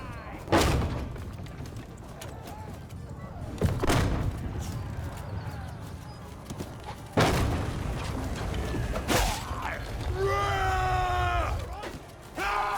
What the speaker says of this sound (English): he screamed in fear